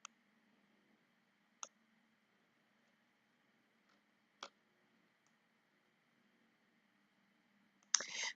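Sparse computer mouse clicks during photo editing, three or four sharp single clicks spaced seconds apart over a faint steady hum, then a brief louder burst of noise at the end, with no voices.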